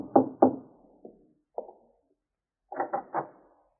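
Knocking on the door of a young artist's studio up four flights of stairs in Greenwich Village: two sharp raps, a lighter single tap, another tap, then a quick run of three knocks, close and distinct in a quiet room.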